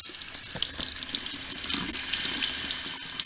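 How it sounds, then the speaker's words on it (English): Warm tap water pours steadily into a sink over a removed Canon Pixma MX922 printhead part being washed, a close, loud, continuous splashing rush with no talking. "I'm washing it off with warm water really thoroughly"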